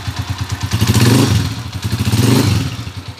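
A motorcycle engine running right after a connecting rod repair, idling close by with a steady, fast, even putter that swells twice into brief revs before settling back.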